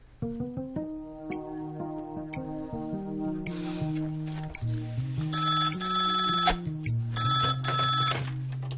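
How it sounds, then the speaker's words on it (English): A telephone rings on an outgoing call, a rapid repeated bell-like ring in several short bursts over a tonal background of shifting notes, fairly close, with no speech. "Where's the phone? I'm calling Al Sharko right now."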